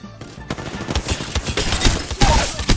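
Rapid bursts of gunfire from a Mozambique shotgun in a shooter video game, loud and close, firing in quick repeated volleys over about three seconds.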